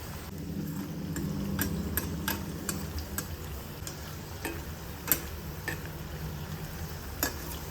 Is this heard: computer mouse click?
no